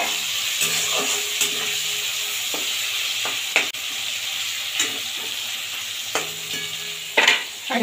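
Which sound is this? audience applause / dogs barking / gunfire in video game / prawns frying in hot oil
prawns frying in hot oil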